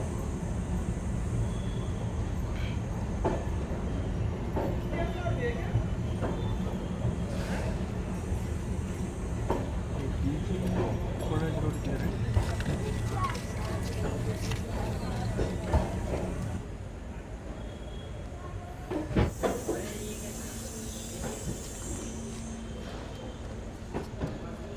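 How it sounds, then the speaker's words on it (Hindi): The Shakur Basti–Dehradun Mussoorie Express rolls into Dehradun station platform, a steady low rumble of wheels and carriages with rail clatter, then a quieter stretch with louder thumps and a hiss near the end, under faint station ambience. "तो फाइनली 8:10 पर हमारी ट्रेन आ चुकी है देहरादून के प्लेटफॉर्म नंबर 4 पर।"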